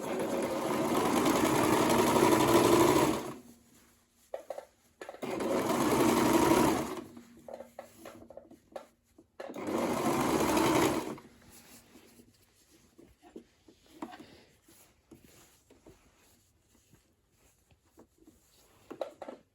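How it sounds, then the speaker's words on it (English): An electric sewing machine stitches the two side pockets of a circle dress together, running in three steady whirring bursts of a few seconds each, separated by quiet pauses filled with faint handling clicks and rustles. "Now I'm sewing the two side pockets together."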